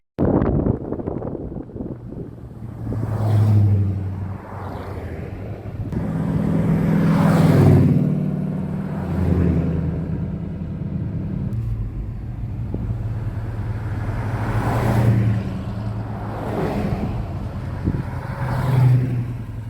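A BMW Z3 roadster fitted with a small-block Chevy V8 drives past at a Hot Rod Power Tour stop, its deep rumbling exhaust swelling and easing under the throttle, with wind buffeting the microphone throughout.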